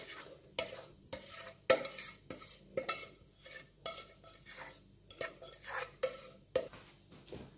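A spoon scrapes and clatters against a pan in irregular strokes, with faint sizzling underneath as samosa filling is stirred and tipped onto onions.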